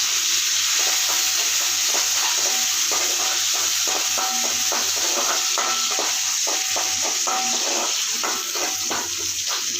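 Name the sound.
onion and curry leaves frying in oil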